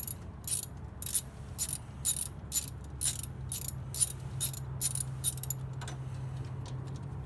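Rapid, regular ratchet clicks from loosening the 14 mm alternator bolts on a Toyota. About a dozen crisp ticks sound close and steady before stopping near the end, with a low hum underneath and no talking.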